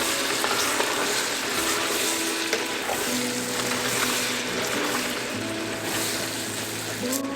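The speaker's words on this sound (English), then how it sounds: "I'm gonna let this simmer for about 15, not even 15, about 3 to 4 minutes." Potatoes with seasoning for southern-style French green beans simmer in a pot, giving a loud, even bubbling hiss with faint tonal hum underneath and no talking.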